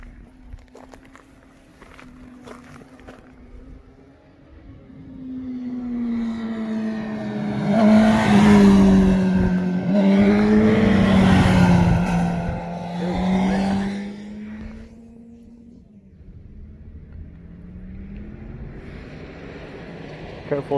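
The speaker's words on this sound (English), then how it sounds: "we're doing some little flybys, little cornering on this bend right here" Motorcycles sweep past on a mountain canyon bend, engines swelling from a distant whine to a loud, close roar as they lean through the corner, then fading away down the road, with faint voices talking around them.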